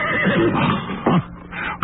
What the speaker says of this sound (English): There were two rough-haired, unkempt horses in the tumble-down stable.